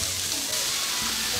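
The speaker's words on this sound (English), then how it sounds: "See, I'm stir frying, right? Stir frying. I stir it, I fry it." Udon noodles and green onions stir frying in a pan, a steady close sizzle with soft stirring scrapes running throughout.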